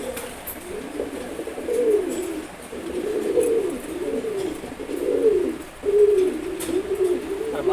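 Domestic pigeons coo in a steady, repeated series of low, throaty calls, close and continuous throughout, with no talking.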